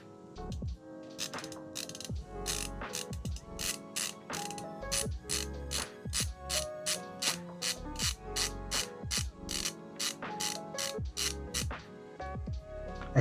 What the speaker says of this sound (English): Attach the I/O bracket to a I/O ports by screwing the original 8 torque screws